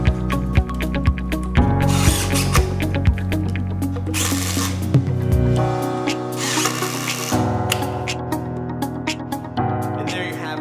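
A power drill drives screws to fasten a hidden countertop support bracket on a knee wall, loud and close in repeated whirring bursts with sharp ratcheting clicks between them.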